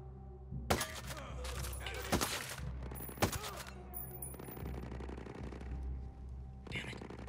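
Video game gunfire in a Ghost Recon Breakpoint firefight, several sharp, loud shots spaced a second or so apart over a steady low rumble of game ambience, with a faint later crack near the end.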